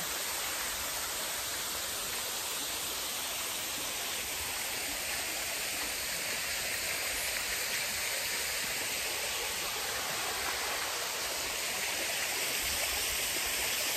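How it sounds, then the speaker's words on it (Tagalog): A waterfall at a forest cove in Tanay, Rizal, pours in a loud, constant broadband rush that stays steady throughout without pauses. "It's a waterfall."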